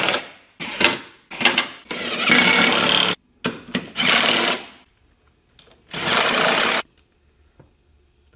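Power tool driving M10 bolts into the subframe of a Jeep Cherokee XJ during a long-arm suspension install, heard as several loud bursts of whirring and rattling, separated by short pauses, with no talk.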